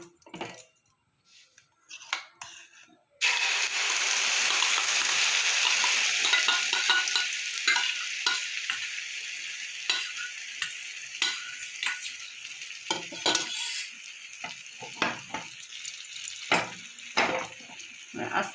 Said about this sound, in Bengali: তেলটা আমার গরম হয়ে গেছে এবার আমি ফুলকপি এটা দিয়ে দেবো